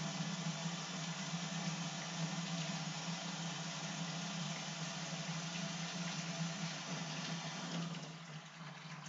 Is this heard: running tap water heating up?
yes